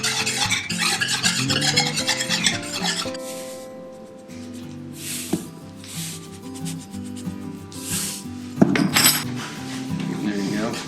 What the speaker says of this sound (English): Blend the baking powder and flour up well.